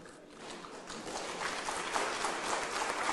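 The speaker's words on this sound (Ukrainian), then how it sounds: "Хтось навіть аплодував" Scattered applause follows Matviyenko's speech at a session in Geneva, a thin, steady clapping that grows slightly louder, heard without speech.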